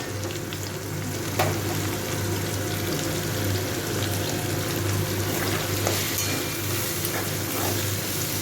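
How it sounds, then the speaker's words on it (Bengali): Chopped onion fries in a pan with a steady close sizzle for a chicken curry made with yogurt. A few light clinks and stirring sounds break through the constant frying noise. "পেঁয়াজটা একটু ভেজে নেব।"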